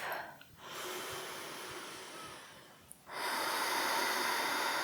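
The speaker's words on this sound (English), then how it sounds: "Take a full breath." Deep full breath during a kneeling yoga pose: a long, close, airy inhale-exhale hiss with a brief pause, then a stronger sustained breath.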